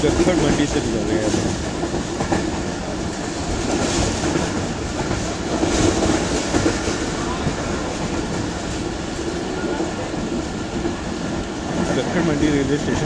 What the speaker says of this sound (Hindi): मंडी रेलवे स्टेशन से काफ़ी स्पीड पे ट्रेन ने क्रॉस किया।